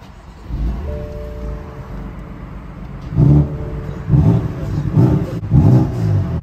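A BMW M4's engine revs in several surging bursts while driving on a motorway, deep rising roars swelling over a constant road rumble, fairly close and loud.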